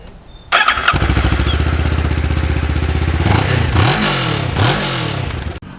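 A Kawasaki Ninja 650 motorcycle fitted with an aftermarket exhaust fires up from cold, settling into a loud, close, steady idle with a few throttle blips near the end before it cuts off abruptly.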